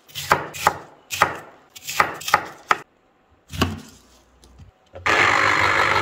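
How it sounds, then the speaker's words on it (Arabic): A knife chops mallow (khebayze) leaves on a board in a series of quick, close, crisp strokes, with short pauses between bursts, followed by a sudden steady hiss at the end. "وبلش أفرمهم بالعرض وبرجع ببرمهم وبقصهم بالطول حتى يصير عندي شقف"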